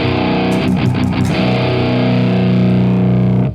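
Distorted metal electric guitar through Amplitube 4 with the overscream stage off, a few quick picked chugs giving way to a sustained, ringing saturated chord, loud and close.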